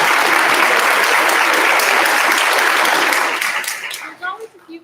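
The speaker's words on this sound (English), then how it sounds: "So give yourselves a big round of applause" Audience applause at an eighth grade graduation ceremony: a loud, dense wash of clapping from a crowd that holds steady, then thins and trails off into scattered claps near the end.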